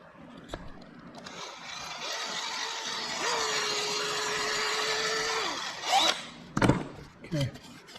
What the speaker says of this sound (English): going to countersink it.